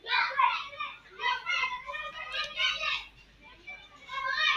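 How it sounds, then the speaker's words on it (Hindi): Children play and shout nearby during the days of Muharram, their excited voices rising and falling in a continuous busy clamor. "इसलिए थोड़ा यहाँ पे बच्चों का शोर रहता है।"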